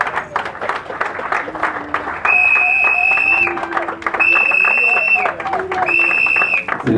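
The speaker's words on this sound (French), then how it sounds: "On accompagne cet acte par les applaudissements de mes messieurs." A gathered crowd claps at a political party ceremony, with sustained applause running throughout alongside repeated whistle-like tones and voices in the background.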